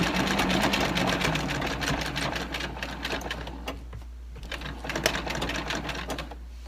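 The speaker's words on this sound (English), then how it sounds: "I like to double, triple the corners down when I'm stitching." A sewing machine stitching the corners of a fabric seed storage bag, a fast close mechanical clatter running loud and steady, then slowing into shorter bursts of stitching.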